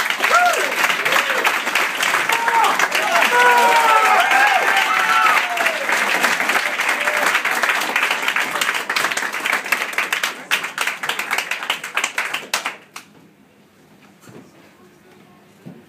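A warm round of audience applause greets Stuart Gillespie as he comes to the stage, loud sustained clapping with cheers that carries on for about twelve seconds before thinning out and stopping.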